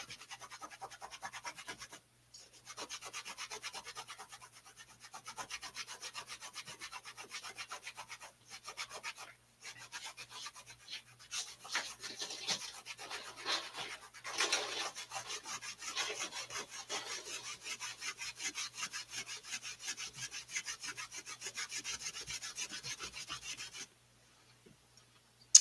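A cloth lightly rubs and polishes a leather hat band with steady, soft back-and-forth strokes, faint and close, continuing with brief pauses and no talking.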